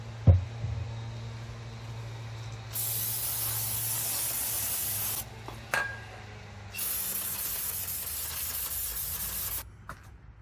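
Carb cleaner sprays onto bolts in a 2010 Mini Cooper engine bay, heard as two long loud aerosol hisses separated by short pauses, with a light metallic clink between them.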